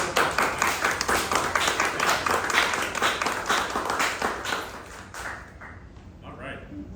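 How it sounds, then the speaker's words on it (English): Club meeting audience claps in a round of applause, steady and dense for about five seconds before trailing off into scattered claps and room murmur. "please give a round of applause"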